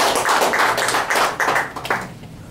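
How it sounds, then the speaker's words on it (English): A breakfast gathering audience gives a round of applause for political candidate Jim Ekstrom, a steady wash of many hands clapping close by for a couple of seconds with a brief dip partway through. "Jim Ekstrom, let's give him a round of applause"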